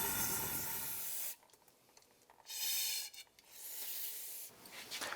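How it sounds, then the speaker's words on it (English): Rubbing and wiping on KLX110 pit bike front fork parts during a rebuild, heard as close, moderately loud bursts of hissy scrubbing separated by quieter pauses, with no talking. "Now I'm just spending a little bit of time cleaning up some of these surfaces."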